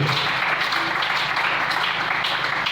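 A church congregation breaking into applause and cheers, a dense, steady wash of clapping that fills the room, loud and sustained without pause.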